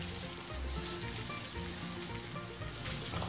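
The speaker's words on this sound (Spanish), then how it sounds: "Y freímos las pechugas empanizadas en aceite" Breaded chicken breasts fry in hot oil with a dense, steady, close sizzle that crackles without a break from start to finish.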